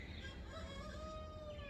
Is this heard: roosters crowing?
yes